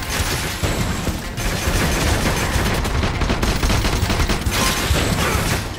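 Rapid video game gunfire from F.I.S.T. during a boss battle, dense bursts of shots and mechanical clatter running continuously, loud and close with brief pauses.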